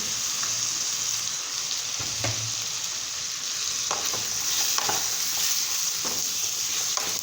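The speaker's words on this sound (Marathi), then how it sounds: "पण आता फुलगोबी टाकून घेऊ" Cauliflower stir-frying in a pan, a steady close sizzle with occasional soft scrapes and taps of a spoon spaced through the frying.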